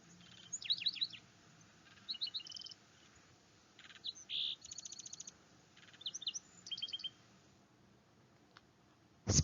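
Sparrow calls played from a recording: bursts of bright chirps and tweets in short clusters spread across the stretch, fairly faint against a quiet background, with no talking.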